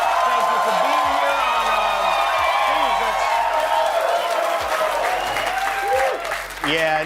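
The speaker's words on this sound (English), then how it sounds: "you clap too loud" Audience applause and cheering at a comedy event, sustained clapping with whoops from the crowd and someone speaking over it near the end.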